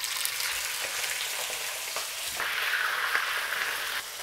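Chicken meat sizzling loudly in hot oil in a pan for Uyghur chicken plov, a steady dense frying hiss with occasional pops and spatters, no talk.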